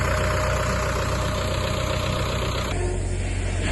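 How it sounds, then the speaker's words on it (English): A trusty little Ford tractor engine idles steadily close by, a low, even mechanical rumble that carries through without a break. "trusty little Ford tractor."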